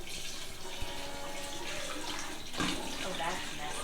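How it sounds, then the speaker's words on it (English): Water pours into a Berkey water filter, a soft running splash that continues steadily and swells slightly near the end, with a light clunk early on. "Now we're not pouring on the filters, we're pouring between the filters,"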